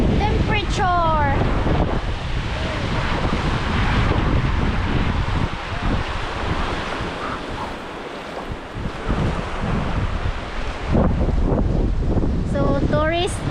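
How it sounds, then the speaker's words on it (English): Steady, blustery wind buffets the microphone on Sandy Skulls Beach, Langkawi, roaring throughout, with voices briefly at the start and end. "it's a bit windy here"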